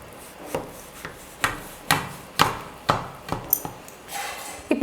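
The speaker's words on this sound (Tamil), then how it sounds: "இப்போ இந்த கத்தியை வச்சு நான் பீஸ் போட்டுக்கிறேன்" A knife cuts a slab of Mysore pak sweet into pieces, making about nine crisp, evenly spaced tapping chops against a board, fairly close and with no talking.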